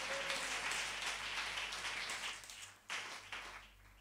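A church congregation at a Sunday service claps together in a steady wash of hands that continues throughout, fairly faint and distant, with a brief dip in the noise toward the end.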